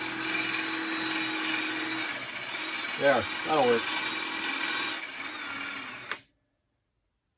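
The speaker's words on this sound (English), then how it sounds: "I gotta walk the drill bit over a bit" A power drill with a bit runs steadily nearby during work on a riding mower conversion, its whine holding for about six seconds before cutting off, with someone speaking briefly over it.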